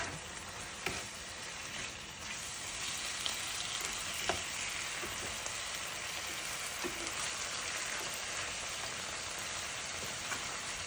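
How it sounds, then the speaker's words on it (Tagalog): Chicken pieces fry steadily in a pan, giving a constant soft crackling hiss with occasional small pops, fairly even and uninterrupted throughout with no talking. "hintayin natin yung ating chicken maluto"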